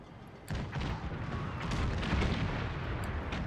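Ship cannons fire in a Napoleonic-era naval battle in the Napoleon Era Mod game, a sudden heavy boom opening a dense, rumbling roar of continuous broadside fire that stays loud to the end.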